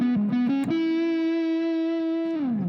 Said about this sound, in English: there's distortion on that solo, so I put distortion on my guitar